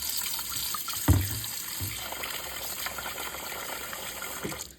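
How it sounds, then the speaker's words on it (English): Tap water runs into a kitchen sink while raw chicken is washed for a baked chicken dinner, a steady close splashing stream with one louder thump of handling early on. "you're washing the chicken really good"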